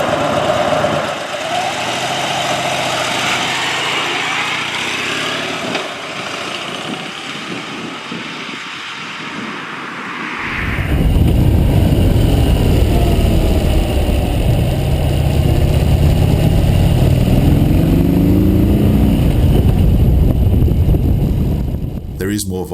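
A 2014 Harley-Davidson Wide Glide motorcycle with its big, torquey engine pulls away from traffic lights, starting as a softer mechanical hum and then swelling into a loud, close, sustained roar as the bike accelerates.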